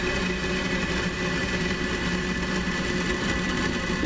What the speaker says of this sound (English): ignition. And a liftoff of Falcon 9